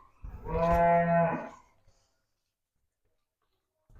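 A single long, loud moo from a young cow close by, lasting about a second, followed by near silence.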